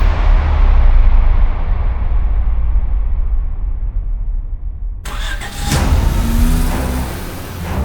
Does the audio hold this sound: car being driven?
yes